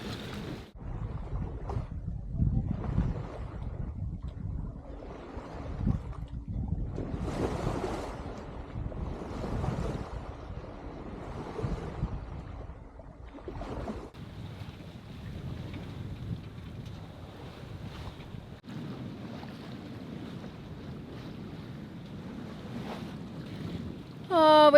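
A sailboat underway in light wind off Costa Rica, with a steady wash of water and wind rushing across the microphone, continuous and fairly close, with no talking.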